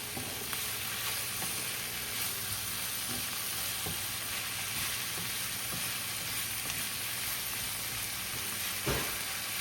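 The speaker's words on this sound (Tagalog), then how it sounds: "Hintayin lang natin maluto ang shrimp" Shrimp seasoned with salt and pepper fries in a pan, giving a constant close-up sizzle with small crackles and pops throughout, and no voices.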